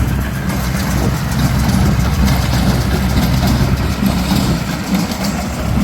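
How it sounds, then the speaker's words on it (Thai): A Kubota LC7 tractor engine runs a John Deere hay baler, producing a loud, steady diesel rumble with continuous mechanical clatter close by. "ใช้รถไถคูบูต้า LC7 ใช้เครื่องอัดของจอ์นเดียโมเองเลยครับ"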